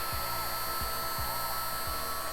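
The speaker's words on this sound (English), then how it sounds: "gonna hold that down as I do the initial heat gun" A heat gun gives a steady, loud rush of blowing hot air, like a dryer, with a few soft low thumps repeating underneath, used on a battery connector.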